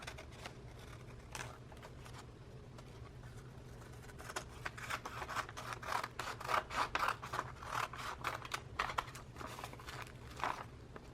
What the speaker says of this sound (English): Okay, and I'll go ahead and cut this out.